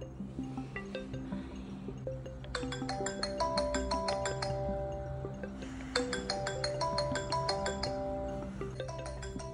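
A mobile phone rings indoors with a repeating melodic ringtone, two long bursts of bright chiming notes over a low steady hum, fairly faint and with no talk over it.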